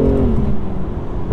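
A loud M2 sports car engine revving and pulling at half throttle, a steady rising roar up close with no voices.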